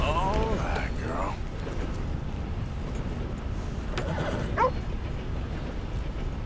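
Dog barks and whimpers in the Red Dead Redemption 2 video game, a few short yips and whines over a low rumbling game background.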